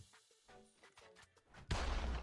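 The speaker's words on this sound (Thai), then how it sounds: "การโจมตีแรกเป็นการยิงปืน แต่ว่ารู้สึกเสียงปืนมันจะออกมาก่อน" Gunshot attack of the Kurumi character in the Roblox anime game Anime G: a string of short, sharp effect hits is followed by one loud, sustained broadband blast that fills the last half-second.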